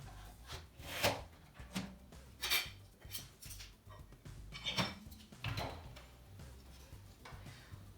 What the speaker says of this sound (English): I'm going to keep loading all my glasses.